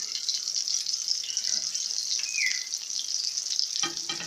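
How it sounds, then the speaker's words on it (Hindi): Chicken shami kababs fry in oil over a medium flame, giving a dense, continuous bright sizzle heard up close with a soft clatter near the end and no voices. "इनको हम मीडियम फ्लेम पर पकाएंगे"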